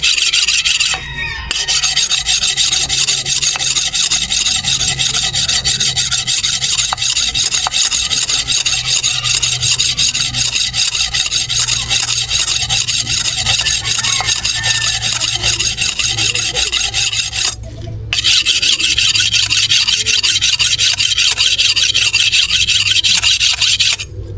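A dull machete blade is sharpened with a file, giving loud, continuous close-up rasping that breaks off briefly twice, with no talking.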